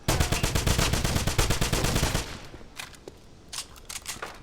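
Gunfire from the video game Wolfenstein (2009) opens with a rapid machine-gun burst of about twenty shots over two seconds. Quieter scattered single shots follow.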